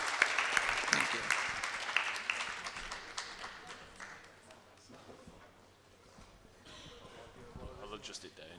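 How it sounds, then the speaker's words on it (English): A crowd at a student union election hustings claps for a candidate, applause loudest at the start and fading to a quieter murmur, with a few scattered claps and bits of talk near the end. "Can we all give him a round of applause?"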